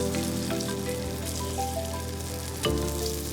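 Whole eggs frying with vegetables in a pan for a vegetable scramble make a loud, dense, continuous sizzle and crackle throughout, with a brief surge near the end.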